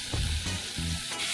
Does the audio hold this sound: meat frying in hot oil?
yes